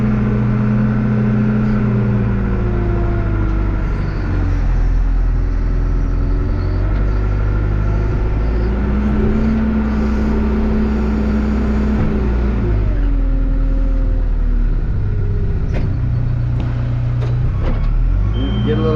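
A truck engine rumbles and revs loudly while dumping loads of dirt in a driveway on a homestead, a continuous near drone whose pitch rises and falls, with faint beeps along the way.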